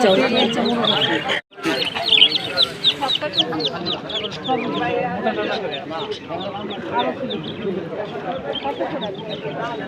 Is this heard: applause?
no